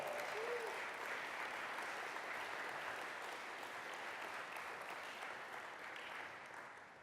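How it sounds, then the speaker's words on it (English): A distant, faint but steady round of audience applause for Tom at the New Ventures Demo Day 2018, continuous throughout and tapering slightly at the end. "So let's give another round of applause for Tom."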